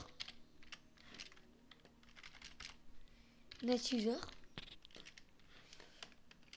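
Keys clatter on a computer keyboard as a command is typed into the command prompt, a light run of taps with a brief louder burst midway, faint and close.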